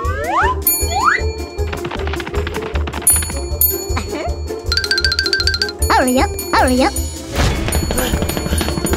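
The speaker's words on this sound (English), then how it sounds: "ringing the bell too much is also an impolite action" Cartoon bell rung over and over in an animated hide-and-seek game, bright repeated dings and jingling chimes mixed with boing-like effects and character voices talking throughout.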